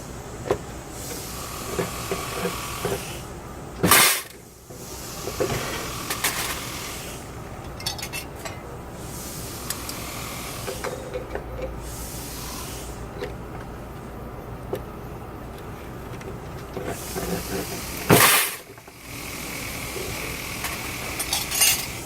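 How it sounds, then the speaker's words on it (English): Metal belt buckles, one of them cast, being cut in half, with two sharp loud bursts standing out from a continuous grinding, hissing workshop noise, and no talking. "let's cut these buckles in half and see what they look like inside"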